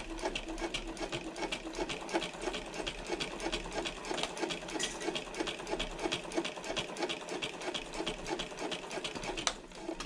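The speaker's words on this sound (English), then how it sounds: "I'm going to back stitch at the beginning, and then I'm going to start stitching" A sewing machine stitches a handbag panel, running steadily and close for the whole stretch in a fast even whirring rhythm of needle strokes, alone with no talking.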